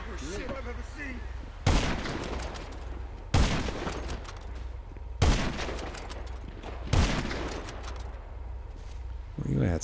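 Gunfire in a GTA Online mission: four heavy, booming shots land a couple of seconds apart over a constant low rumble and background game noise.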